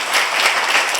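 A church congregation claps together in a short burst of dense, close applause, filling the whole moment without any voices.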